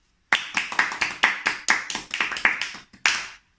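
A short round of applause: roughly a dozen crisp, evenly spaced hand claps, close and fairly loud, with no voices, ending in one last clap that rings out briefly.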